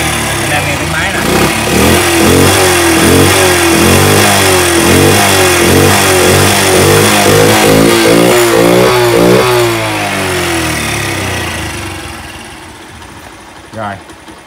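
A Honda Benly 50cc motorcycle engine revs loudly up close, a steady buzzing idle climbing and falling through several throttle blips before the engine cuts out and quiets near the end.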